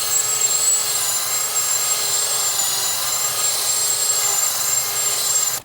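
A wire wheel on a power tool grinds continuously against the corroded starter mounting surface of a 2006-2015 Lexus IS250 AWD, a loud steady high-pitched whirring that cuts off abruptly at the end.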